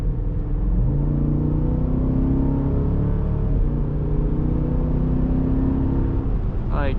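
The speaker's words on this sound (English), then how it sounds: "these gears be winding out, and there's 8 gears, so it can hold them for a pretty long time" Jeep Grand Cherokee SRT engine revving hard, its pitch climbing and winding out through the gears of an eight-speed automatic. The drone is loud and steady and close, heard from inside the cabin, with no talk over it.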